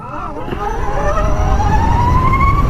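A Harley-Davidson motorcycle pulls hard and loud up close from 0 to 60 mph, its pitch climbing steadily as it accelerates through the gears under wind rush.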